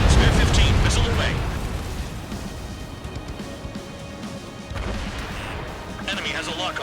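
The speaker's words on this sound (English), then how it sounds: "Spare 15, missile away." Missile launch and rumbling explosions in the jet combat game Ace Combat 7, a loud burst at the start fading into a sustained roar, with another swell of blasts near the end under faint radio chatter.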